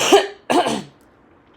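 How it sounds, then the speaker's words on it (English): A person clears their throat and coughs twice in quick succession, close and loud, followed by quiet and a small click. "sometimes I'm going to need to clear my throat"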